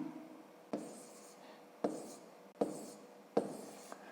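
Pen or pencil writing out long division by hand on paper, a soft scratchy stroke broken by four sharp taps as each figure is started, close and steady with no talk.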